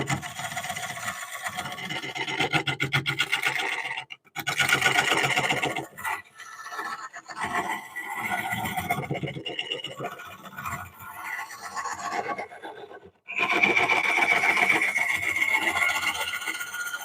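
A small scraper cuts an oak bowl spinning on a wood lathe, a close, gritty scraping rasp in bursts broken by short pauses, with a brief whistling tone near the end.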